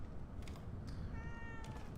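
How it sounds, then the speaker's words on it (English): A cat in the horror video game The Evil Within 2 gives a few soft meows, faint over a steady low game ambience. "I like how the cat jumps down every time."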